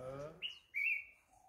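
A bird gives two short, clear high chirps near a yard, fairly faint, after a brief stretch of a person talking.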